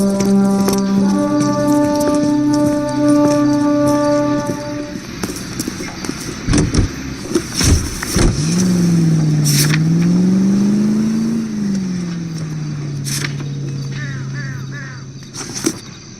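A car engine in the video game L.A. Noire hums and then revs up, its pitch rising and falling over several seconds with scattered clunks and knocks around it.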